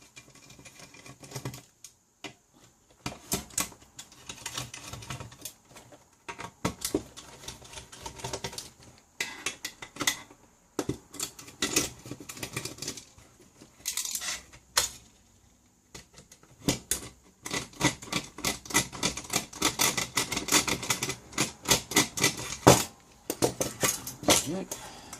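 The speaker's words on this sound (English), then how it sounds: "Get the screws out, and then comes the main bit." Screws are removed from a switch mode power supply during a teardown, with close metallic clicks, rattles and clattering handling noises in irregular bursts, and a voice speaks at times.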